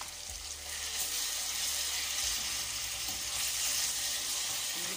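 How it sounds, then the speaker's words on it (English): Beef frying in a pan for a white cabbage and beef mix, a steady close sizzle over a low background hum that shifts partway through. "Then I'll put my beef on."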